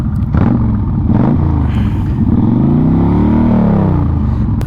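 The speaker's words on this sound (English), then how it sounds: "It's got an aftermarket Vance & Hines exhaust." A 2013 Yamaha Striker cruiser motorcycle with an aftermarket Vance & Hines exhaust revs loudly up close, its deep, throaty engine note climbing and falling through several throttle blips.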